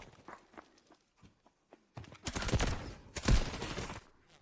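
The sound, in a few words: gunfire in the video game Delta Force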